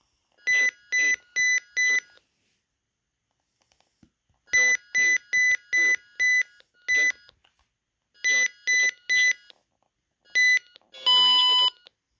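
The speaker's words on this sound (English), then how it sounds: "I don't want this alarm." A RadioShack 12-522 weather radio's electronic alarm beeps in bursts of four rapid tones, repeating three times with pauses, then a longer steady tone; loud and close, no talking.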